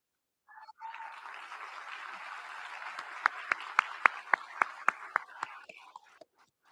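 Applause at a World Languages Institute graduation ceremony, a soft, steady wash of clapping from a crowd with a few louder, sharper claps standing out before it fades.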